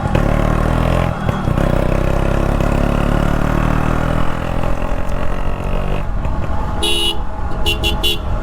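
A restored Yamaha RX 135 two-stroke motorcycle engine runs close by with a steady, loud buzz, then drops toward idle near the end as several short horn toots sound.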